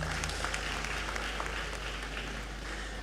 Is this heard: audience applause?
yes